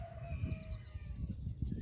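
Chickens cluck and murmur close by in a village, with a faint rooster-like call threading through steady outdoor background noise.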